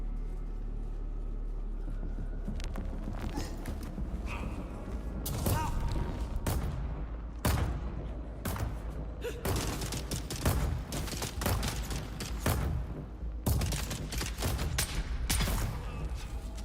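Turret fire during a boss battle in the video game Dune Awakening, with repeated loud gunfire bursts and mechanical clatter spread across the clip over a steady low rumble.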